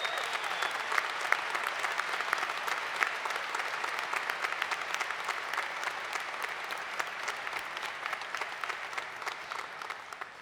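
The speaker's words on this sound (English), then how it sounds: "Let's give Richard a round of applause." Steady applause from a commencement audience honoring an alumnus and board chairman, dense and sustained throughout with no pauses.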